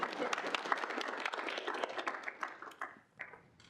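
Audience members at a student senate meeting clap after a presentation, a scattered burst of moderately loud handclaps that thins out toward the end, with a faint voice underneath.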